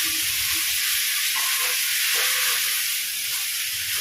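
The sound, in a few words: cassava dish being mixed and stirred in a pot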